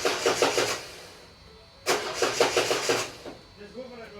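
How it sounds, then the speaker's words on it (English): A 2013 Ford Focus 1.6 TDCi diesel with a crank-no-start fault is cranked twice, each a rhythmic chugging burst of starter turning lasting over a second, separated by a brief pause, loud and close. "we're going to crank it over just to build up the pressure before we start it"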